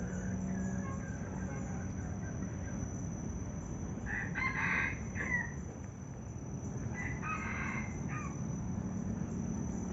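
A rooster crows twice at a distance, faint against a constant background hum and low rumble, with a thin high whine throughout.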